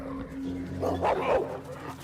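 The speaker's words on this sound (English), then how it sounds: "Now they have dogs after me." Dogs bark and yip in the video game Ghost of Yotei, a short cluster of barks in the middle over a steady low in-game hum and background ambience.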